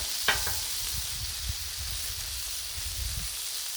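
A turkey burger pressed flat sizzles steadily on a Blackstone griddle, a continuous close frying hiss with a brief scrape or squish near the start and no talk.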